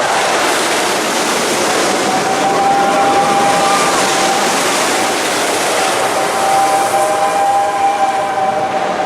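An amusement park train at Cedar Point rolls past close by in a continuous loud rush of rattling and hissing, with a thin high whistle-like tone running through it.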